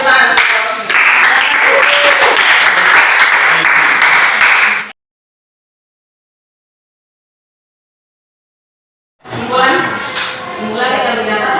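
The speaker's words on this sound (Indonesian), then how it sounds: "Oke, kita beri tepuk tangan." Classroom applause after a chemistry lesson on electrolyte solutions, loud continuous clapping from a group of students for several seconds, cutting off to silence before speech resumes.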